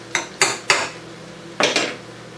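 Dishes and cutlery clinking while filet mignon is plated: five sharp metallic-ceramic clinks, three in quick succession then two more after a pause, close and clear with no talking.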